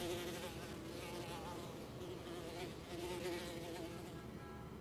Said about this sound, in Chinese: 洞室里还生活着一群蜜蜂，他们随意在道长周围飞舞